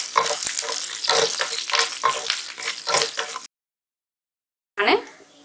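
Chopped green chili and curry leaves sizzle and crackle in hot oil while being stirred in a pan. The frying is loud and steady, breaks off abruptly, then comes back briefly.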